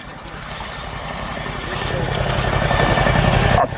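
A Chinook helicopter hovers at the RAF Cosford Airshow, its twin rotors giving a loud, continuous thudding drone that swells slightly while an announcer talks over it.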